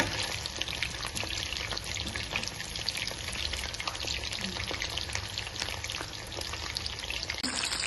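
Palak chicken kebabs frying in a limited amount of oil give a steady, close crackling sizzle with dense popping throughout, without talk.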